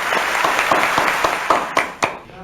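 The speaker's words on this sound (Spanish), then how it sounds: "un largo etcétera que sin duda merecen un gran aplauso." Scattered clapping honours theatre workers, a few close hands beating an irregular rhythm of distinct claps that grow sparser and stop after about two seconds.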